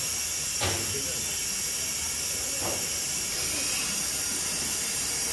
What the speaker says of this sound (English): this machine compressor or whatever it is, starting to create a lot of noise and steam.